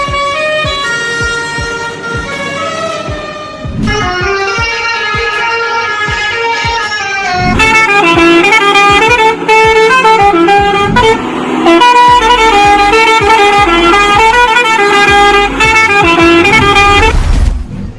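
A loud, multi-tone truck air horn plays the tune of a song in clear musical phrases, blaring continuously with a rumbling engine underneath.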